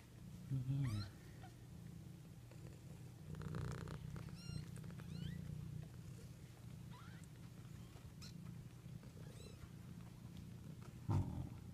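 Kittens meowing and purring at home while a yellow Labrador meets them, with several faint high meows scattered through a soft continuous rumble and background noise.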